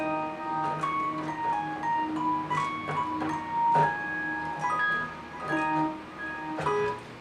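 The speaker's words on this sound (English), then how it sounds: "Rhodes kind of keys. I stacked two different instruments on top of each other." Rhodes-style electric piano keys layered from two stacked Omnisphere instruments in a hip hop beat, playing soft sustained chords with bell-like tones and gentle ticking percussive accents at a moderate, steady level, without voices.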